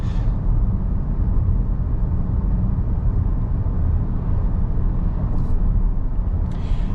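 A 2024 Kia Sorento X-Line 2.5T cruising on the road, a steady low engine and road rumble from inside the cabin with smooth, barely noticeable gear changes.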